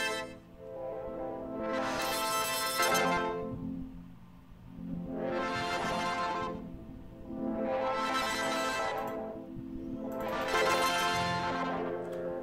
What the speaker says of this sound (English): I'm moving the symmetry values in the first oscillator, the second oscillator, and the fourth oscillator.